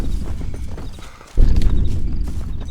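Horse hooves from the video game Red Dead Redemption, a steady clip-clop of trotting that runs through the clip, dipping briefly and then returning louder and closer over the game's ambient background.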